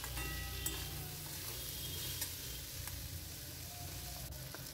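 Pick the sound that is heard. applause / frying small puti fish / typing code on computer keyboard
frying small puti fish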